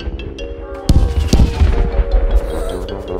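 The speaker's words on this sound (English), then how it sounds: "And now it's time for the big fireworks." Big cartoon fireworks bang in a Peppa Pig episode: a couple of sharp, loud booms followed by crackling bursts over a musical background.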